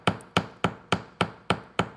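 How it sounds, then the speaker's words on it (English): A hammer taps copper wire on a hard surface to harden it, seven sharp, evenly spaced metallic strikes close up, each ringing briefly before the next. "I'm not going to do a heavy hammer. I'm just going to tap. I want to harden this wire."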